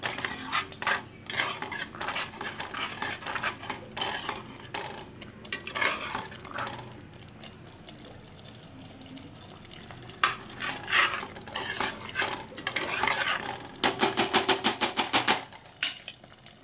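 A spoon scrapes and clinks against a pan while masala gravy for a cashew mushroom curry cooks, with irregular stirring strokes over a soft bubbling sizzle and a rapid burst of clattering near the end.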